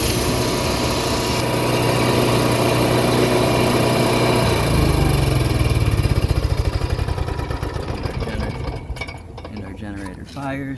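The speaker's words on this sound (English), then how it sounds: "And our generator fires." The onboard generator of a 2016 Phoenix Cruiser RV starts with a rising buzz and settles into a steady, loud, close running drone that pulses rhythmically toward the end.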